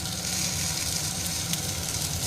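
Dried red chilli sizzles steadily in hot oil for dal, a continuous close crackle and hiss with no pauses.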